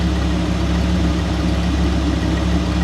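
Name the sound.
Dodge Viper engine idling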